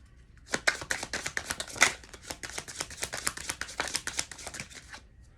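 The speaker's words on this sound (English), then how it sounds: "I was shuffling and I kept seeing it" Tarot cards being shuffled by hand, a rapid run of crisp riffling flutters and slaps lasting several seconds, close and clear with no talking over it.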